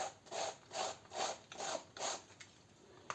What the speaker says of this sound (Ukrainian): І так ми посічемо всю капусту